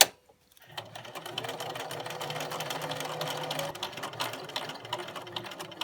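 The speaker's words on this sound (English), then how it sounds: "I'm going to take a diagonal stitch this way, 1 or 2 stitches, and then I'm going to continue on." A sewing machine stitches strip-pieced fabric for a scrappy Christmas tree ornament, a steady close whirring hum that starts after a brief pause and runs continuously, with small stops and restarts near the end.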